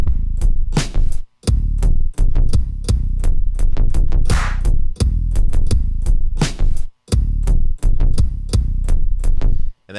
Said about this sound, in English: Well, yeah, let's add the 808s in.